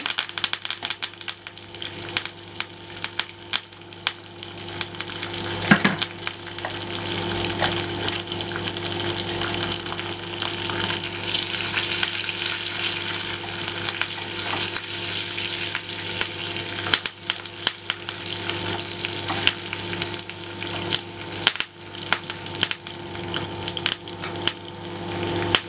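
Curry leaves, green chilies and ginger fry in hot oil with a steady, loud sizzle and crackle that runs unbroken throughout, with a few brief sharper pops along the way.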